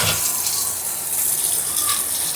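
Rice rinsed under running tap water, a steady close gush of water pouring continuously for a couple of seconds with no talking.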